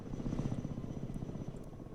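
A helicopter in the real-time strategy game Broken Arrow gives a low rapid rotor chop over a steady whine, fairly close and continuous.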